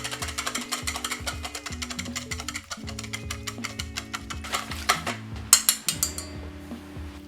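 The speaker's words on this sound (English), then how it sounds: "take a medium-sized bowl, crack an egg and whisk it until it's uniform" A cracked egg is whisked in a medium-sized bowl, a fast run of light clinking strokes against the bowl over steady background music.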